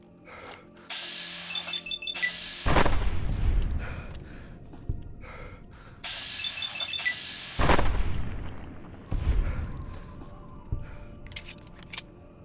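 Pistol shots from a .45 handgun in Fallout New Vegas, a few sharp booming reports spaced several seconds apart, each with a short decaying tail over faint background game ambience.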